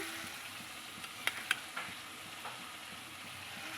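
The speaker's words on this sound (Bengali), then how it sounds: "এবার আর একটু কষিয়ে নেব" Curry for fish and cauliflower frying in a pan, a faint even sizzle with a few sharp clicks of a stirring spoon against the vessel, no talk.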